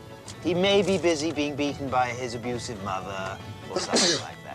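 A single loud sneeze bursts out at the end after a stretch of continuous speech, close and abrupt.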